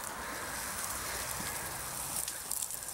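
A hose sprays water onto a person, a steady broadband hiss with small splashing flickers, fairly quiet and continuous.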